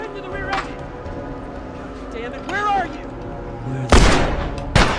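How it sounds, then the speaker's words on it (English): A gunshot rings out in The Last of Us as one sharp, loud crack, followed shortly by a second, shorter bang. A voice talks briefly before the shots. "I shot him in the head, man."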